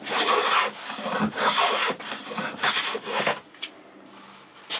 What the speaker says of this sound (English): we're taking fairly decent shavings with this blade as well